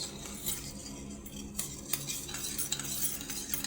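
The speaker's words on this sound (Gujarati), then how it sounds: "એને સારી રીતે હલાવી લઈશ।" A spoon stirs salt water in a bowl, giving a steady run of soft scraping and clinking strokes, close and moderately loud, with no talk.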